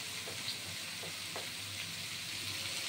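Vegetables sizzle steadily in a pan with a pinch of salt and turmeric while cooking upma, a faint continuous hiss broken by a few soft stirring scrapes, with no voices.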